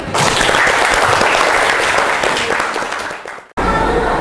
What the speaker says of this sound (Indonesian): kasih aplaus untuk Abi